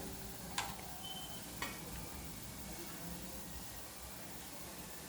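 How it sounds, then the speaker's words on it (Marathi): Sweet potato gulab jamun frying in oil over a low flame, a soft continuous sizzle with a couple of faint ticks from stirring. "कमी गॅसवर तळते मी सारखा हलवत म्हणजे सगळीकडे त्याला कलर चढेल"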